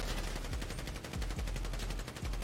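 Rapid automatic gunfire in GTA 5 roleplay, a dense steady stream of sharp shots filling the whole moment, somewhat muffled and moderately loud.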